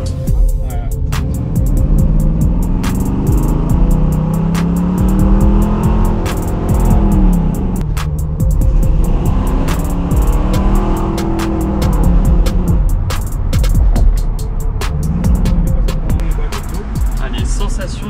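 A car drives on a race track, its engine revving up and down in repeated sweeping surges that stay loud and close throughout, with people talking over it.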